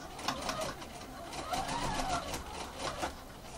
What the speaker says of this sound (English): I'm going to be stitching quite close to the edge of the bias binding, and you can also use a larger stitch.